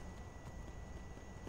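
Horse hooves clip-clopping at a steady walking pace in the fantasy game Skyrim, a soft repeated thudding beneath a constant low background hum.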